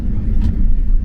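A car being driven, with a steady low engine drone and continuous road rumble filling the short stretch at an even level, no voices over it.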